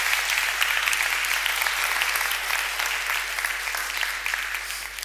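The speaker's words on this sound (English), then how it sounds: "Give another round of applause." A conference audience gives a long round of applause at a music-theory talk, a thick, continuous patter of many hands close by that stays strong throughout, then eases slightly toward the end, with no speech over it.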